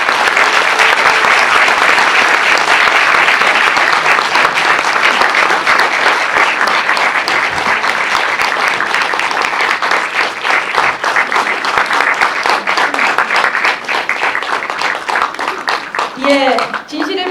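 An audience at a cinema talk-back event gives sustained, loud applause to welcome bereaved families, many hands clapping densely for over fifteen seconds and slowly thinning near the end, with a voice speaking over it.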